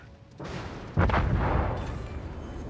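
Heavy naval gunfire in World of Warships: a deep booming shot followed by a bigger, louder blast that rolls out into a long rumbling decay, close and powerful with no talk.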